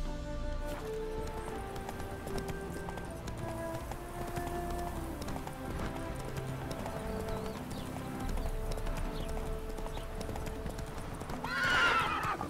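Roach, a horse in The Witcher 3, gallops with rapid rhythmic hoofbeats that run continuously, ending in a sharp whinny near the close.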